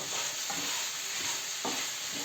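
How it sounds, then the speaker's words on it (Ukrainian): Chopped onion with salt is sautéing in a pan for plov, producing a soft, continuous sizzle with a few light stirring scrapes over a short span. "Я найтрошка підсмажую цибулю."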